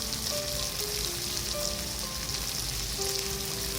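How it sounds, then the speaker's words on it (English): Yakitori chicken pieces and Japanese long leek sauté in a Teflon frying pan, giving a steady, even sizzle and crackle throughout, heard alone without talk. "take little time for the saute. One side make some looks yummy burning."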